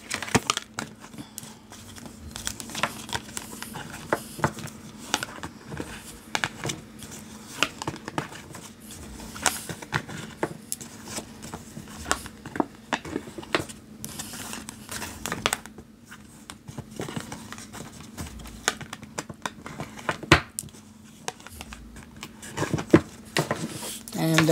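Tarot cards are handled and shuffled into the deck, making a continuous run of light papery taps, riffles and flicks at close range.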